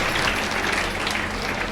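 Steady applause from an audience for college students after cultural art performances at a district event in Tiruchirappalli, a dense, even wash of clapping filling the whole short stretch with no voices.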